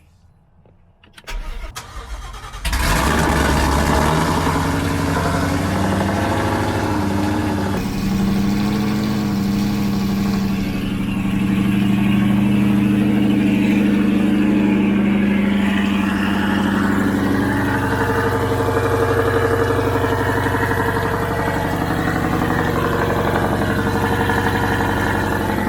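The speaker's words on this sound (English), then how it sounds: "Let's get this cold start." A drag car engine cold-starts with a burst of cranking, then settles into a loud, steady, lumpy idle that holds for over twenty seconds, close to the microphone with no talking.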